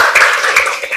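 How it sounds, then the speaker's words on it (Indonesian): Several people clapping their hands together in a quick, rhythmic burst of loud, close claps, with brief pauses between groups, in a lively class setting. "Oke, tepuk tangan buat kita semua"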